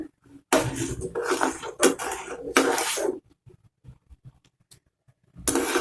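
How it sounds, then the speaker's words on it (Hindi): A spoon scrapes and clatters against a pot of simmering potato, tamarind and plum sharbat in several close, loud bursts of stirring separated by quieter pauses, with no voices. "इसमें चमचा ऐसे चलाते रहेंगे थोड़ी थोड़ी देर बाद"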